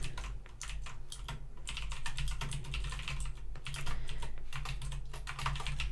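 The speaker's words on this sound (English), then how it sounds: "I'm just typing in my notepad here." Rapid typing on a computer keyboard during a coding session, dense irregular key clicks close to the microphone, continuous and fairly loud with no speech over it.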